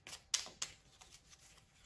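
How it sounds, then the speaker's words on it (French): Rune oracle cards being shuffled and picked, a few quick papery riffles and flicks in close succession, crisp and near, with no talking. "Je vais choisir 3 cartes."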